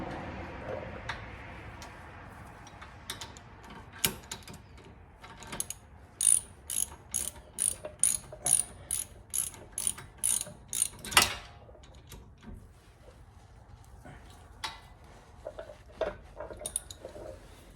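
A ratchet wrench snugging down rear brake caliper bolts on a 2022 Infiniti QX60, with a close run of about a dozen evenly spaced clicks, plus scattered single ticks before and after.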